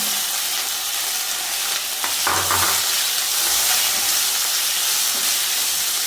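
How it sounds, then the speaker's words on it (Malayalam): Sliced onions sautéing in oil in a pan for a Kerala-style beef bone curry, a broad steady sizzling hiss with a few stirring knocks, close and continuous without talk. "ഇതിലേക്ക് നമ്മൾ സവാള ആഡ് ചെയ്യുന്നു"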